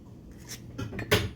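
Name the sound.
spoon sifting eggshell out of a bowl of eggs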